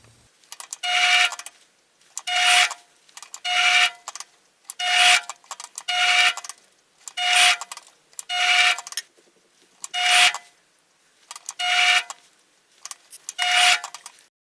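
Repeated cutting passes on a lathe machining a custom worm gear: about ten evenly spaced bursts of bright, scraping metal noise, each roughly a second long with a steady tonal ring, separated by short quiet gaps, close and fairly loud.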